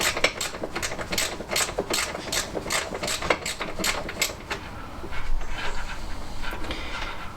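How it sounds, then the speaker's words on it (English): A hand ratchet works loose the bolts on a classic Fiat 500 engine being removed, its rapid clicking pawl running in quick bursts, close and fairly loud, with brief pauses between strokes. "having to work my hand on one side and the ratchet on the other"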